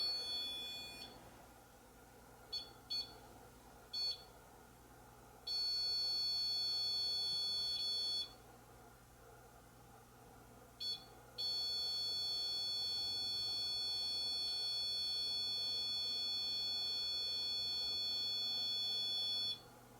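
A REM pod paranormal detector in a basement room sounds repeated steady electronic beeps: a few short bursts, then two long sustained tones lasting several seconds each, over a quiet background hum.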